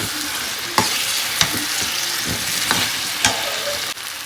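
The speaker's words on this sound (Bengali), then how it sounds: "আগে থেকে ভেজে রাখা পটল আলু আর পনির এর মধ্যে দিয়ে দিলাম দিয়ে একটুখানি কষিয়ে নেব" Pre-fried pointed gourd, potato and paneer are stir-fried in coconut milk, a steady close sizzle punctuated by sharp spatula scrapes about every half second.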